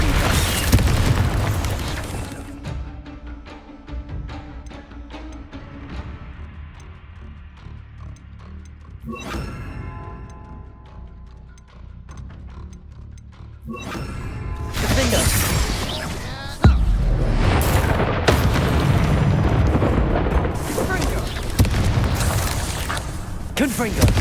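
Spell blasts from Hogwarts Legacy, booming explosions with shattering debris and mechanical rumbles layered over game music and effects, loud and dense, with a voice casting spells in between.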